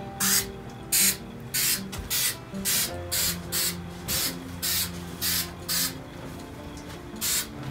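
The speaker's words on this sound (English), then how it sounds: "is I use a little spray adhesive." A series of short hissing bursts of spray adhesive onto a water-damaged popcorn-texture ceiling repeats at a steady rhythm, about a dozen in all, close by over a low background hum.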